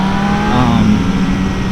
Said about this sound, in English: the XSR900, it revs so hard, it revs so fast